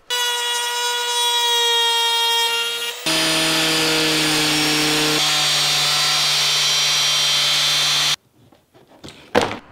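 A Dremel and then a larger grinder disc cut into the stock bumper of a 5th Gen Toyota 4Runner, a loud steady high-pitched whine from each tool that stops abruptly, leaving a few quieter clunks.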